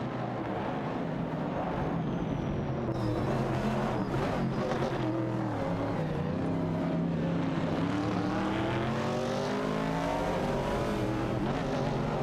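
Ford Falcon and Ford Mustang Boss racing cars in a video game battle closely, engines droning and revving continuously with rising and falling pitch as they jostle for position.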